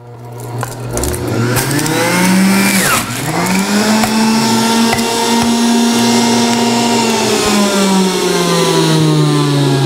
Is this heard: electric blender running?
yes